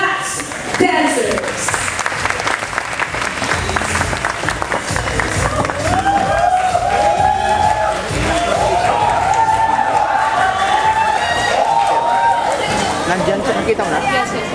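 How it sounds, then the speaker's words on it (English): Sustained crowd applause and cheering fill the hall at a pageant coronation night as the Human Touch Dancers open the show, loud and continuous, with tonal music and voices mixed through the noise. "how about a warm applause for the Human Tax Dancers?"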